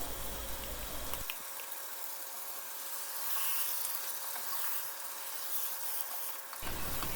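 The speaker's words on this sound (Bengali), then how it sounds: "এবার আমি মাংসটাকে ছয় থেকে সাত মিনিটের মতো কষিয়ে নিব এবার অ্যাড করছি দুই টেবিল চামচের মতো টক দই" Pieces of beef sizzle in a pot with whisked sour yogurt for beef tehari, giving a steady moderate bubbling hiss over several seconds, heard alone.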